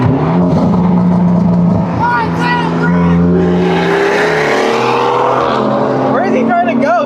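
A Hyundai Elantra N on a base map races a BMW 440i in traffic, its engine revving hard and rising in pitch as it accelerates, loud and close, while people talk excitedly over it.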